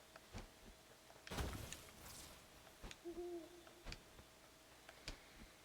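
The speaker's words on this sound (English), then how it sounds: "So it sounds like the owl's like north of where I'm right there" Owl hooting in the video game Death's Door, a soft low hoot heard once amid sparse ticking clicks and faint game ambience.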